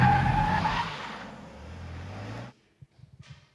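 A car skids around a courtyard with squealing tires and a roaring engine for about two and a half seconds, loud and close, then cuts off sharply, leaving faint scattered knocks and rumbles.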